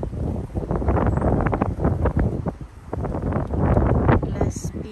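Gusty seaside wind at Southend-on-Sea on a cool afternoon buffets the microphone in rumbling surges, with a voice partly audible beneath it.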